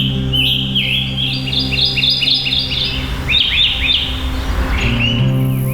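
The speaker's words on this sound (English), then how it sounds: "it really means birdsong" Birds sing loud and close in a Mesoamerican forest, with rapid repeated chirping phrases in bursts over a low steady background hum.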